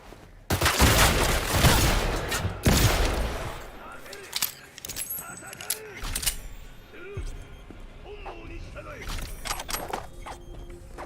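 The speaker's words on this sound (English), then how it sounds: "Why are you shooting at me?" Bursts of gunfire ring out in the Cyberpunk video game, a loud dense volley at first followed by scattered shots and mechanical clatter, with a voice talking over it.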